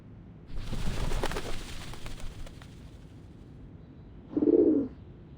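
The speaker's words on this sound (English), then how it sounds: "The doves of the Whitestone House are here." Doves cooing in the video game Reverse: 1999. A soft, low coo rises clearly near the end over quiet background ambience, with some faint earlier noise.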